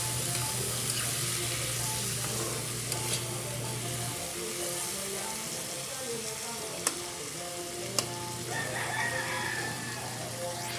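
Tomatoes sauté in a hot pan with a steady, moderate sizzle and occasional stirring clinks, while a rooster crows in the background.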